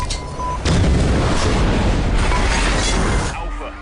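A detonated device explodes in a film scene, a heavy, sustained roaring blast that fills the space loudly for several seconds before cutting off abruptly.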